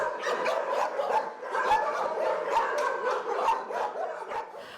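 Several dogs bark repeatedly in overlapping bursts at a crowded animal shelter in Kharkiv, with some yips and whimpers mixed in, moderately loud and close in an enclosed pen.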